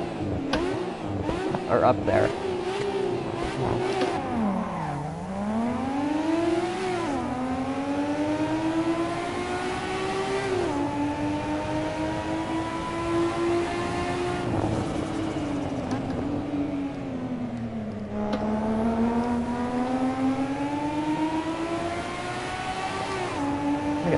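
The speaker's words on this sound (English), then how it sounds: "Best engine sound ever." Car engine in the racing game Assetto Corsa on PS4 revving and climbing through gears, the pitch rising, dropping at shifts and rising again over a loud, continuous drone, with someone talking briefly over it.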